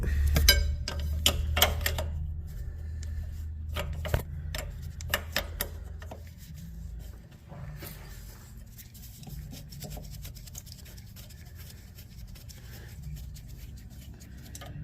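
A small 10 millimeter bolt is worked loose from the rear brake of a first-generation Scion xB: scattered metallic ticks and clicks of a ratchet and wrench, close and fairly quiet, then softer rubbing and handling sounds.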